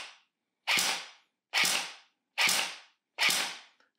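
An airsoft rifle firing single semi-automatic shots, four loud sharp cracks evenly spaced about a second apart, close and with silence between them.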